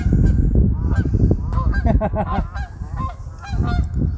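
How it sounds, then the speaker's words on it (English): A flock of geese flying in to a farm pond honks loudly and repeatedly nearby, calls overlapping in a noisy chorus over a steady low rumble. "we got some geese coming in, that's cool."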